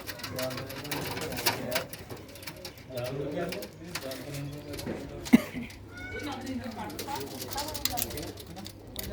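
Pigeons in a loft coo softly in low, rolling calls amid rustling and scattered clicks, while someone talks nearby over them.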